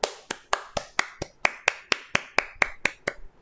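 A single person clapping steadily, about fourteen sharp, evenly spaced claps at a brisk tempo, close and clear with no talking.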